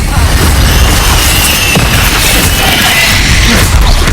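Incendio fire spell in Hogwarts Legacy, a loud whooshing burst and crackle of flame layered over dense, continuous combat noise, close and harsh throughout.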